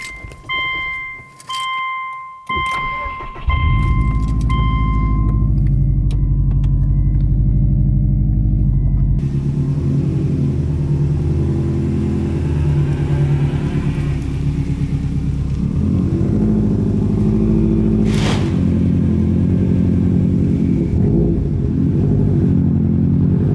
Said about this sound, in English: I'm gonna pull the car in the driveway